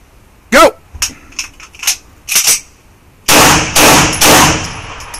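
Pistol gunshots fired during a Mozambique shooting drill: sharp close cracks in quick sequences, first spaced single shots, then a rapid cluster of loud reports, with people talking between them.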